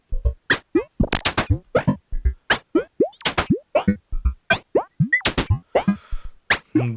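FM synthesizer oscillator on a Gotharman's LD3 playing a fast sequence of short plucky, pitch-swept drum-like blips whose note changes each step, crisp and dry with brief gaps between hits.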